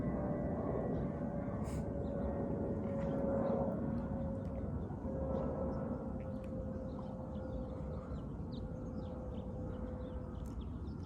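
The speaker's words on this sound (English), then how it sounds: "Let's let the plane pass." An airplane passes overhead: a steady, broad rumbling drone with a faint sustained tone runs for about eleven seconds, with faint bird chirps above it.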